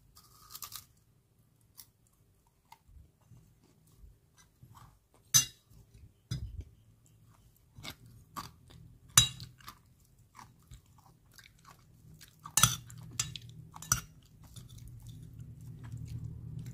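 A crispy deep-fried rice dish topped over rice is eaten with cutlery, giving scattered close crunches, bites and utensil clicks against a plate, with quiet pauses between and a low rumble throughout.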